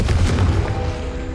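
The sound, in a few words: Confringo blast spell in the Hogwarts Legacy video game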